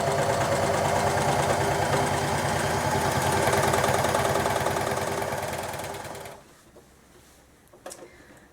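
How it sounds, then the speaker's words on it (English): A standard sewing machine runs a zigzag stitch, a steady rapid mechanical chatter close by for about six seconds before stopping, followed by a few faint handling clicks. "you can use like a standard sewing machine with a zigzag stitch"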